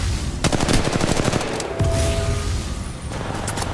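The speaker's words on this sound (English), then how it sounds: "Getting shot at." Loud close automatic gunfire in the mobile battle royale Apex Legends Mobile, with quick chattering bursts punctuated by short pauses and a persistent background din, with no voices present.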